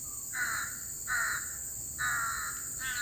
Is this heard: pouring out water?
no